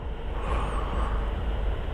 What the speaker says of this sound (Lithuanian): Štai ir lėktuvas net atskrido.